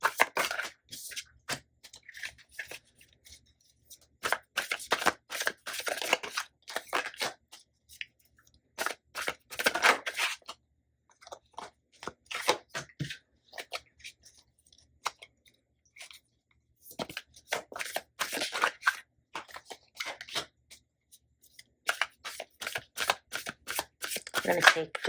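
Tarot cards are shuffled by hand in repeated bursts of crisp riffling and soft slaps, close to the microphone and separated by quiet gaps.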